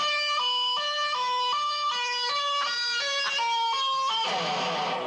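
An electric guitar mimics a police siren, sliding up and down between two pitches in a steady wailing pattern, with no one talking.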